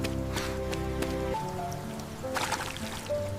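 Rain falls steadily at night, a continuous close patter of drops with a brief bright spatter near the end and no voices.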